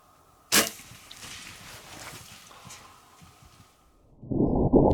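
A bow is shot at a deer from 15 yards on a quiet morning: one sharp, close snap of release, then a soft rustle, with a louder scuffling burst at the end.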